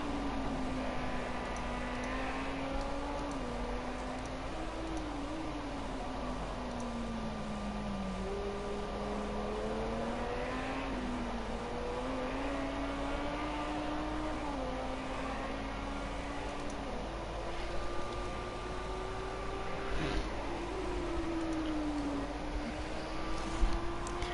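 GT3 race cars lap the Nürburgring GP circuit, their engines droning steadily at a distance with rising and falling pitch as they shift and brake, a continuous muffled roar with no voices.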